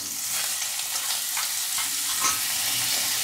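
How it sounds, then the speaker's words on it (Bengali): Cauliflower florets fry in a pan with little oil, giving a steady, bright sizzle with faint scraping stirs, close and continuous without talk. "এবার আমি কফিগুলো একটু ভেজে নেব।"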